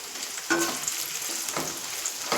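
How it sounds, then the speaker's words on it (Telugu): Homemade potato finger chips frying in hot oil on a high flame give a steady, close sizzle with a few stirring clinks, without talk. "స్టవ్ హైలోనే ఉండాలండి, ఆయిల్ హీట్ ఎక్కువ ఉండాలి, అప్పుడే క్రంచీగా వస్తాయి."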